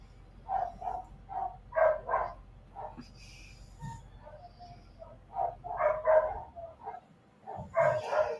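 Dogs bark in repeated bursts from a kennel room farther off, muffled and reverberant, with a low rumble underneath and brief gaps between volleys.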